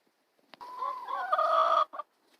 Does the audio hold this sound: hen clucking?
yes